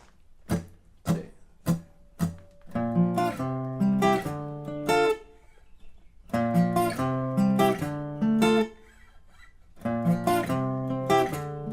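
The full guitar riff on a close, clear acoustic-toned guitar: a few single plucked notes, then two longer strummed and picked passages separated by a brief pause, with no voices.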